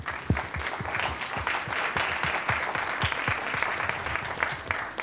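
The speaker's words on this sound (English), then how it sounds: "Can we give them a round of applause?" An audience at a fintech startup pitch competition in Austin gives a round of applause. The clapping is dense and continuous, heard from within the room at moderate loudness for about five seconds, with no one talking over it.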